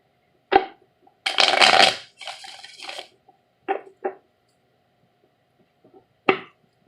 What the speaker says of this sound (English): Just going to give the deck a quick shuffle.